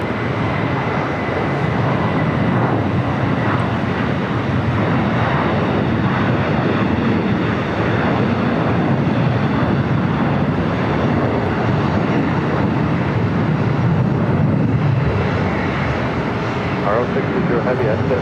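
Jet airliner taking off from runway 25 right at LAX, its engines a loud, steady, broad roar that fills the whole stretch without easing, with a voice faintly present beneath it.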